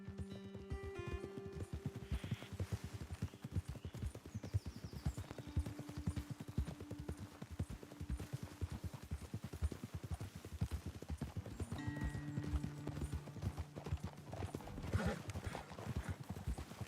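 Horse hooves clip-clopping in Red Dead Redemption 2, a steady rhythmic patter of hoofbeats at moderate distance with soft game music and faint voices now and then.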